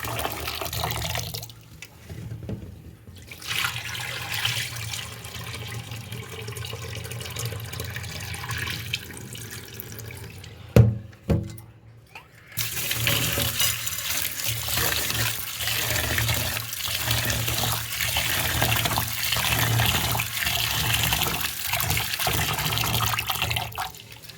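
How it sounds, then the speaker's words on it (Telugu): Water drained from washed rice, a continuous close pouring and splashing rush that pauses briefly midway with a couple of knocks, then resumes steadily, with no talking. "ఇప్పుడు వాటర్ తీసేసుకుందాం."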